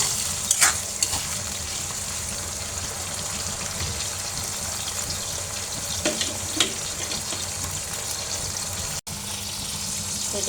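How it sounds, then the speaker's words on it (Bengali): Shrimp fry in a pan seasoned with salt and turmeric, giving a steady close sizzle with occasional stirring scrapes and a brief pause near the end. "আমি একটু লবণ আর হলুদ দিয়ে ভেজে নেব চিংড়িগুলো"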